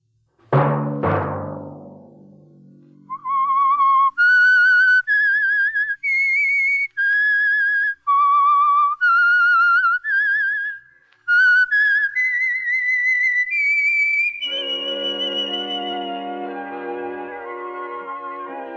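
A ringing tone fades out, then a clear solo whistle plays the short melodic theme tune of the radio mystery drama The Whistler in distinct phrases, followed by a sustained orchestral chord.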